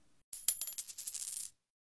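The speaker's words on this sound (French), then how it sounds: "Pièce de monnaie." A coin drops and settles, a short bright metallic jingle and rattle lasting about a second, close and clear with nothing else around it.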